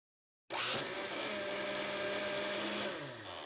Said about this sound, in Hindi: इन सबको अच्छे से ब्लेंड करेंगे